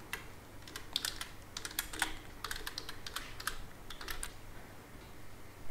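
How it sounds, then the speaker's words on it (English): Quick irregular key clicks from typing on a computer keyboard, a fairly faint series of light taps in uneven bursts, close by, with no talking. "you can type the title and you can set the date and time for that"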